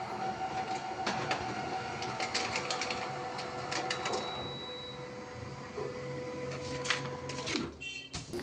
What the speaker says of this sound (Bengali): ক্যানন ইমেজ রানার 2224N ডুপ্লেক্স মেশিন দিয়ে আধার কার্ডের ফ্রন্ট সাইড ও ব্যাক সাইড একসাথে প্রিন্ট করা যায়